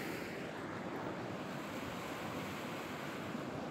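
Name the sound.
rushing water of Hell Roaring Creek during thaw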